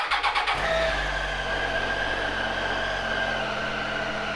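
A 2017 Triumph Tiger 800 XRX motorcycle with an 800cc three-cylinder engine cranks briefly with a few quick starter pulses, catches, and settles into a steady, fairly close idle.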